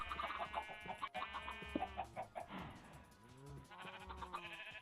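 Minecraft chickens clucking in a modded 1.7.10 game world, soft repeated clucks and squawks mixed with other animal-like bleats and game sounds over continuous background music.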